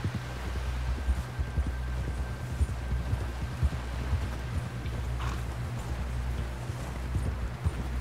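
Galloping horse hooves from Red Dead Redemption 2, a steady rapid clip-clop running continuously over a low rumbling in-game ambience, with no voices.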